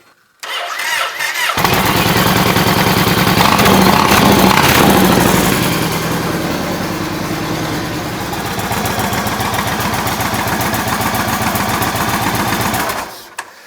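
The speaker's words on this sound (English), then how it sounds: "let's crank it up and let her idle for a while" A 2008 Yamaha Raider motorcycle cranks over and fires, then settles into a loud, steady idle with a rapid even pulse that runs close by for over ten seconds before cutting off abruptly.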